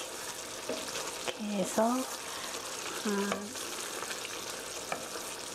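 A spoon gently stirs braised tofu in a pan, scraping along the bottom with soft clinks and scrapes over a low sizzle, while someone speaks Korean briefly.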